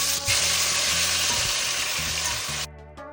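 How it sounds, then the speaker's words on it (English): Loud, steady sizzling of chicken frying in very hot oil in a pot, a continuous crackling hiss up close with faint clinks underneath, cutting off near the end. "make sure to let it sizzle"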